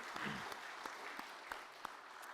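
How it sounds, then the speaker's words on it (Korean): Faint congregation applause during a Sunday worship service at a Holiness church, a soft continuous patter of clapping with a few distinct sharper claps spaced through it. "우리가 축하하며 박수 한번 하십시다"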